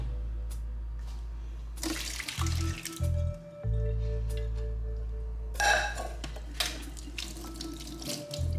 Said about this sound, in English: Now the beans are done, I'm just gonna drain them.